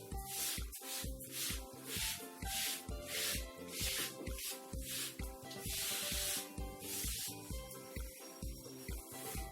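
Writing is rubbed off a classroom board during a maths lesson in steady, rhythmic back-and-forth scrubbing strokes, close and fairly loud, over a constant tonal hum.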